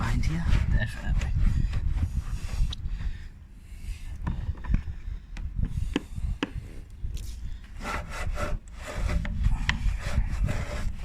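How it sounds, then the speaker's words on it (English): A brush scrubs back and forth around the caliper of a car wheel coated in soapy wheel shampoo. The close, rhythmic scratchy rubbing continues the whole time. "Soap's definitely helping with lubrication with the brush, so the brush is a lot easier to move backwards and forwards, especially around this area, around the caliper"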